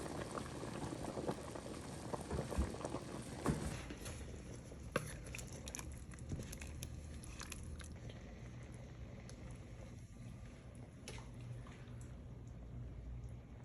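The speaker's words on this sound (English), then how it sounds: "I'm gonna boil them for about 5 minutes" Red beans boil in a pot, a steady bubbling and popping simmer that runs continuously close by, with no talking.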